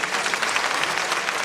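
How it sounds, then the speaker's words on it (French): An audience at a small gala claps loudly and steadily, a dense unbroken wash of applause from a crowd in a hall. "On l'applaudit très très fort,"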